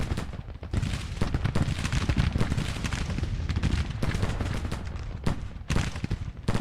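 Gunfire rattles through a battle in the video game Grand Tactician: The Civil War, dense overlapping musket volleys crackling continuously at mid distance, with occasional sharper nearby shots standing out.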